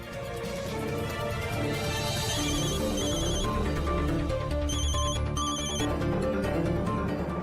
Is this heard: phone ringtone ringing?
yes